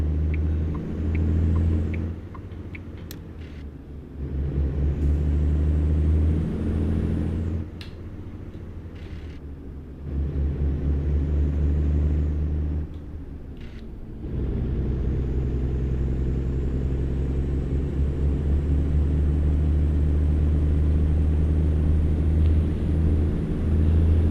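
International 9900i truck driving down a road in a driving game: a deep, steady engine rumble that drops briefly several times as if shifting gears, then resumes, heavy and continuous with no voices.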